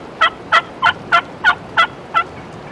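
A wild turkey calls in the woods during rain, seven sharp, evenly spaced calls about a third of a second apart, fairly close and clear over a soft background hiss.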